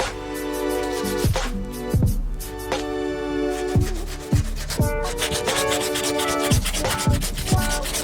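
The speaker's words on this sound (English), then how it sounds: "get started on this endless amount of sanding I'm going to have to do" Steady abrasive rubbing of a sander working across the car body of a Mazda MX-5 Miata NA, with repeated brief knocks and shifts in pressure, close and continuous.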